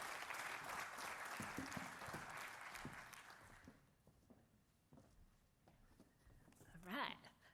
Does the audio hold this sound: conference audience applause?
yes